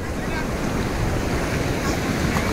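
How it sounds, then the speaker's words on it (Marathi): Big, rough sea waves surge at Baga beach in Goa, a continuous roaring wash of surf with wind buffeting the microphone throughout. "समुद्र खूप खवळलेला आहे"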